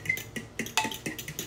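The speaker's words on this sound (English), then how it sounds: "I can whisk better than any." Eggs being whisked in a bowl for egg fried rice, a quick series of light clinking strokes of the whisk against the bowl, close and fairly soft.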